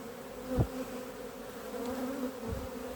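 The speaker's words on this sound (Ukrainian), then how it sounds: "О, дивіться, що робиться, стільки бджоли" Honey bees hum steadily at an opened hive during a spring colony inspection after long rains, a continuous close buzz with a couple of brief low thumps.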